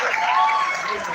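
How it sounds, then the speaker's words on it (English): An audience applauds a professor at a university handing-over ceremony, a brief, steady burst of clapping with a voice speaking over it. "Another round of applause for Professor."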